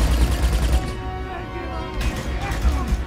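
An Uzi firing in the video game Uncharted 2 during a boss fight, rapid bursts of gunfire mixed with explosive game effects, loud and busy throughout, with no talk over it.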